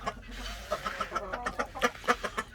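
Chickens cluck repeatedly while raiding feed in a wheelbarrow, a busy run of short, rhythmic clucks close by, rising in loudness toward the end.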